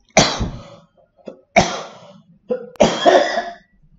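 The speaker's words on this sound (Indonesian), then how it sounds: "serak ini batuk" A person coughing three times, each a harsh, hoarse burst about a second apart, close and loud in a quiet room.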